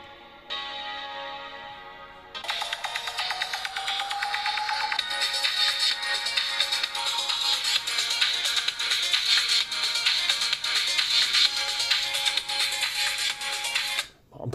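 Bottom loudspeaker of a Poptel P1 phone plays a ringtone-like melody: a short tone, then a dense, ticking, echoing electronic tune running continuously for over ten seconds before stopping abruptly.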